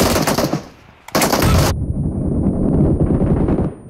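Loud automatic gunfire in a mobile shooter video game, a dense rapid burst, a short gap, then another sharp volley that trails off into sustained rumbling battle noise.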